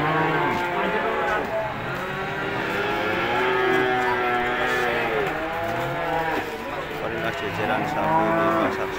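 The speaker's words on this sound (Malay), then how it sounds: "Jajaran sapi di pasar sapi yang berutama." Many cattle low and moo over and over at a busy livestock market in Ambarketawang, Yogyakarta, the calls overlapping near and far against steady crowd and market noise.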